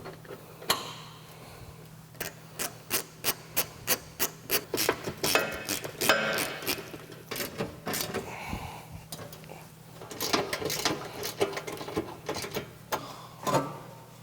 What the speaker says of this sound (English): We'll use a wrench on the top side with a socket on the bottom, and then a 16mm to remove these center bolts